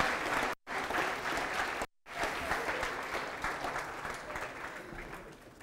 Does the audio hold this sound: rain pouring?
no